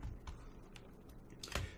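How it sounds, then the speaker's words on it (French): A few computer keyboard keys are pressed for a shortcut while editing in Photoshop, giving quiet, close clicks with a couple of sharper taps near the end. "Je fais un raccourci clavier CTRL-SHIFT-I"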